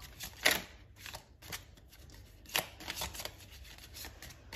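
A deck of oracle cards is shuffled by hand, close crisp riffles and slaps in irregular bursts with short pauses between.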